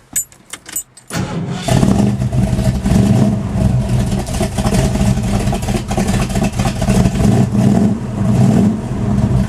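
A 1970 Ford Ranchero GT, all original, starts up: a few faint clicks, then the engine catches and settles into a loud, steady, rumbling idle close by with slight surges.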